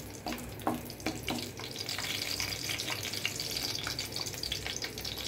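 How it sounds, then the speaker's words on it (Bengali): Whole garam masala spices (bay leaf, cinnamon, cardamom and cloves) frying in hot oil for a beef kofta curry, giving a steady close sizzle with a few light clinks and stirring scrapes, no voices. "এবার দিয়ে দিচ্ছি আস্ত গরম মশলা, তেজপাতা, দারচিনি, এলাচি, লং। এটা একটু হালকা ফোড়ন দিয়ে নিচ্ছি।"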